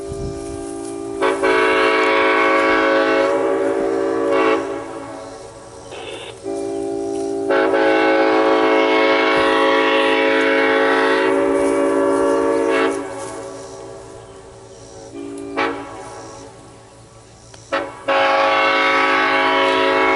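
Clinchfield 800 locomotive sounding its horn for a crossing, several long loud blasts with short gaps between them, near and clear, with no talking over it.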